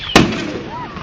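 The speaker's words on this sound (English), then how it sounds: "Did you hear that awkward little noise when that firework went?" A Fourth of July firework explodes with one sharp loud crack at a street fireworks display, and a short fading rumble follows.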